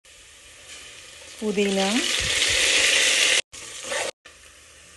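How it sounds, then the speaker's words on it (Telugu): Thinly sliced onions with spices frying in hot oil for a chicken dish, a steady loud sizzle with stirring scrapes and a brief voice over it, cut by two short gaps near the end. "సన్నగా తరిగిన ఆనియన్స్ రెడ్గా అయ్యేంత వరకు ఫ్రై చేసుకోవాలి"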